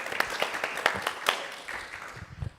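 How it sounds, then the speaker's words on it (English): An audience claps for panelists at a talk about living with cancer, a short burst of scattered, moderately loud applause that thins out toward the end, with faint voices underneath. "we're all going to give a clap to our panelists and to everybody as well"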